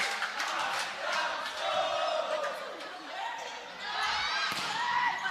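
Energetic Adamson crowd cheering at a UAAP basketball game, a roaring, swelling arena din with shouts and squeaks rising and dipping throughout.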